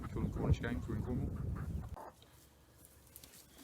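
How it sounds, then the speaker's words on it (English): A cockerel and a trio of meat chickens, Cornish game birds on a farm in Cornwall, give low clucks and short calls close by. A person talks over the birds for the first half, and then the sound drops to quieter background noise. "a cockerel, and there's a trio of meat chickens, Cornish game, Indian game"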